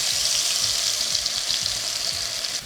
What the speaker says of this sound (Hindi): मसाले को डार्क नहीं करना बट सुनहरा होने तक भुनेंगे